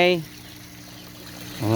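Dirty water drains steadily out of a concrete catfish tank during a water change, a continuous gushing wash with speech briefly at the start and end.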